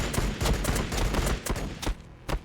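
Pistol fire in the Warhammer 40,000: Battlesector video game, several sharp, close shots in quick irregular succession over a dense battle din.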